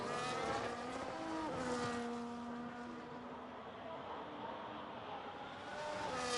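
Racing video game car engines whine at a steady, moderately loud pitch while one car spins out, with a squealing tonal tire sound sliding through the middle; the engine drone continues throughout with no talking.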